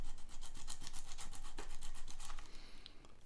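Steady scraping and rasping as a file shaves down one side of the nut on a cheap Barracuda Stratocaster-style guitar, close and continuous, easing off near the end.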